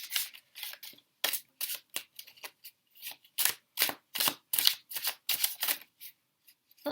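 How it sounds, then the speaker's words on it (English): A large tarot deck is shuffled by hand close up, giving crisp riffling bursts in an uneven rhythm separated by short quiet gaps. "So I'm going to shuffle, okay, shuffle, shuffle, shuffle"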